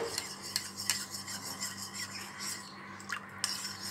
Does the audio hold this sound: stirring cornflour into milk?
yes